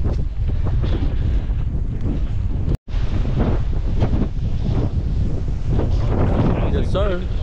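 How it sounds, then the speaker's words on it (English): Strong, cold wind buffets the microphone on a beach pier in a loud, continuous roar, with waves washing faintly underneath. "And it's windy, quite cold wind."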